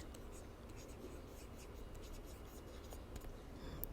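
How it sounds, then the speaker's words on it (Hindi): Faint, continuous pen scratching while a physics question is written out, soft strokes ticking steadily over a low background hiss. "सो यहाँ पर हम अब क्वेश्चन लिख लेते हैं, इवेल्युएट"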